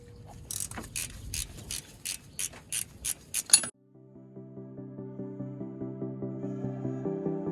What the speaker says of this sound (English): So I'm going to remove those bolts